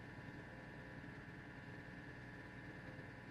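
A Geoprobe 3100GT drill rig engine runs steadily while coring in fourth gear at around 750 RPM, a smooth, even hum with a constant low drone and no talking.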